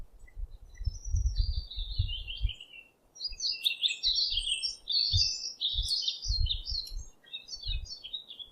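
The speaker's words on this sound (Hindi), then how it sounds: "नाइटिंगल को हम हिंदी में बुलबुल कहते हैं, बुलबुल।" Nightingale (bulbul) song: a clear, close bird delivering varied high whistled phrases and rapid trills in repeated bursts across the clip, over low rumbling background noise.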